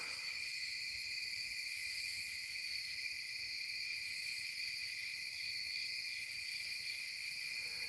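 Steady, dense chirping of crickets fills the night air, a continuous high-pitched trill with no voices, moderately distant and unbroken throughout.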